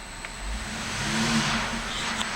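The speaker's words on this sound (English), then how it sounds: "The car is running right now." A gray 2011 Cadillac SRX Luxury Collection with 32,641 miles runs at idle, a steady mid-pitched engine hum with a faint whine, close and continuous, with no voices.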